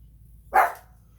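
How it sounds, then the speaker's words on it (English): A single short dog bark, fairly faint and a little distant, in an otherwise quiet setting. "My dog's barking."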